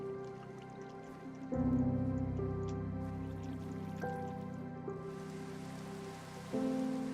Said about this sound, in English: Got to love Minecraft rain.